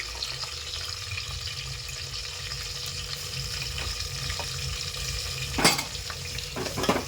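Sliced onion and seeded tomato frying in a pan for chicken biryani, a steady broadband sizzle with occasional stirring scrapes and a louder burst near the end.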